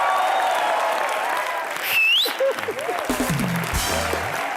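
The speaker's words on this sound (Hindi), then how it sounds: "ओह, जोरदार तालियां एक बार यार।" A live studio audience on the Comedy Nights With Kapil comedy show in Mumbai bursts into loud applause, a dense wash of clapping with a brief whistle, while cheers and voices rise over the noise.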